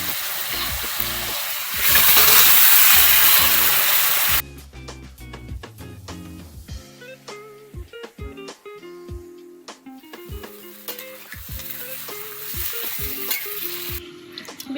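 Mutton and browned onions frying in a pot over a clay stove for dum biryani: a loud burst of sizzling as the meat goes in, then steady crackling frying with repeated scraping stir strokes, close and clear with no talk.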